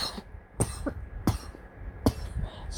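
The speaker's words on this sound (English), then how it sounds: "Excuse me for coughing" Several hoarse coughs come in a row, spaced out over a couple of seconds, close to the microphone with a low background hum.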